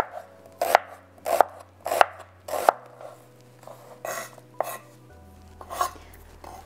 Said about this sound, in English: And you want to thinly slice them long ways.